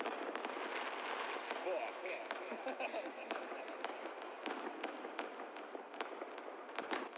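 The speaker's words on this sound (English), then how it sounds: "like fireworks sound cool. I got like a little voice memo on my phone" Fireworks popping and crackling in the distance, recorded on a phone voice memo, sharp bursts scattered irregularly over a hissy, lo-fi background, with a louder crack near the end.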